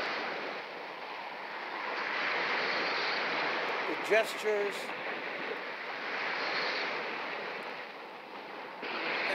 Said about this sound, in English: the sound of the water making it impossible to hear